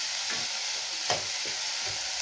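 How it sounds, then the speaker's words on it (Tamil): Onions sauté in a pan with a steady sizzle while a spoon stirs them in a few short scraping strokes, close and clear with no talking. "நல்லா வெங்காயம் வதங்கணுங்க."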